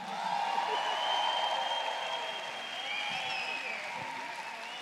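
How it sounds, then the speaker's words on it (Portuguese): A conference audience at CPAC Brasil 2021 claps in a broad, continuous wash to welcome minister Onyx Lorenzoni, fairly distant and even, with faint voices and a thin tonal hum running beneath. "Eu quero que vocês acolham com uma salva de palmas o nosso excelentíssimo senhor"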